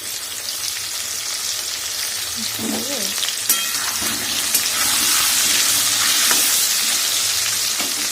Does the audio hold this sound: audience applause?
no